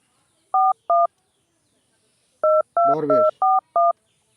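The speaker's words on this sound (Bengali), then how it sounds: "তুই একটু ফোনটা ধরাই দে" A phone number is dialed on a keypad: two quick DTMF beeps, a pause, then a rapid run of five more tones. A short burst of speech cuts in among the later beeps.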